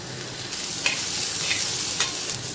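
Onion sizzling in hot oil in a pan for black vatana bhaji, a steady close frying hiss with a few soft stirring scrapes.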